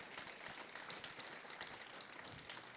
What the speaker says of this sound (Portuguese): E dê um aplauso a Jesus mais forte que você puder.